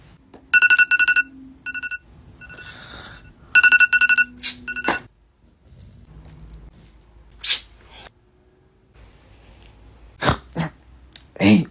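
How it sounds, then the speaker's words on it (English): Mobile phone ringtone sounding twice in a repeating electronic pattern, loud and close, followed by scattered thumps and short vocal sounds in a quiet room. "My mom's calling you."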